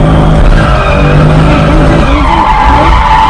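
A C6 Corvette drifts, its tires squealing and skidding in one loud, unbroken screech over the roaring engine.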